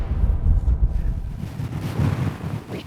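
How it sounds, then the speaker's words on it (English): Strong wind in the mountains buffets the microphone in heavy low rumbling gusts, loudest early and easing off toward the end, no voices. "So it's pretty windy right now"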